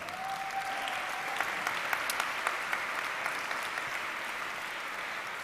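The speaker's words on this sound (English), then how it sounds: "So a round of applause to the young professionals" An audience applauds young professionals from the Kuldīga Technology and Tourism Technical School at a skills event; steady, even clapping from a sizeable crowd throughout, with a faint tone at the start.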